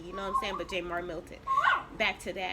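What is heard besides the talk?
dog barking and whimpering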